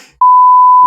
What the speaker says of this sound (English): I can beep it out.